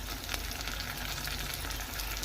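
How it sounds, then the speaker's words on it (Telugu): Curry leaves frying in hot oil during preparation of crispy karela fry, a steady, dense sizzle with crackling pops, close and continuous, with no talk. "ఈ విధంగా ఫ్రై అవుతున్న దాంట్లో కొంచెం కరివేపాకు కూడా ఫ్రై చేసుకుందాం"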